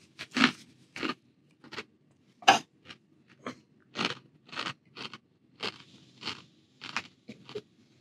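A One Chip Challenge tortilla chip, stale after six months on a desk, crunched between the teeth in about a dozen separate loud bites and chews, close and evenly spaced, with no talking.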